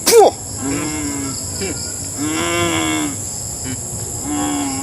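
A voice imitates a goat's bleat, drawn-out wavering calls repeated three times over a steady insect-like hum, close and fairly loud.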